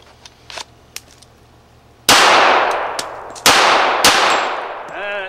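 Two loud, sharp pistol shots from a Colt Combat Unit firing factory ammunition, each followed by a long ringing decay, with faint clicks and handling noise before them and a metallic ring at the end.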